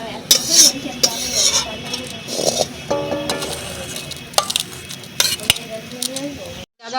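A spoon scrapes and clinks against a pan while cooked green banana (biche kola) curry is served out, with a faint sizzle underneath and a few sharper metallic taps, close and alone.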